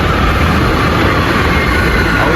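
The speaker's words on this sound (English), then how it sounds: "I'm showing you train." A passing train in Panama gives a loud, steady broadband rumble with a heavy low-end roar, continuous throughout and close by, with no talking.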